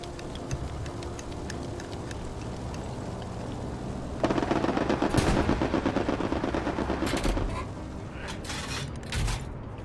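Artillery fires in the WWII shooter Hell Let Loose, a heavy booming blast erupting midway over rumbling battlefield ambience, followed by sharp distant impacts and crackling echoes.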